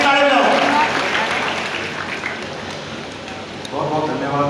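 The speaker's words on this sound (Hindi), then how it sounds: "तो सब ताली बजाओ जोर से" A crowd claps loudly at a local civic gathering in Farrukhnagar, a dense rattling patter of many hands mixed with voices talking and calling out over it.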